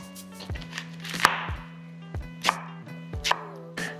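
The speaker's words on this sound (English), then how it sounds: "now I'm gonna go ahead and chop up these onions" A knife chops onions on a cutting board for chili con carne, four or five sharp separate thuds spaced irregularly, close up over a low steady background hum, with no voices.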